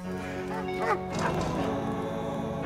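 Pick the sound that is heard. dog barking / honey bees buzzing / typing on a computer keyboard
dog barking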